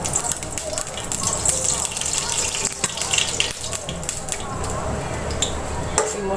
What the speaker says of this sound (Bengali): দিয়ে দিচ্ছি 3 টেবিল চামচ সয়াবিন তেল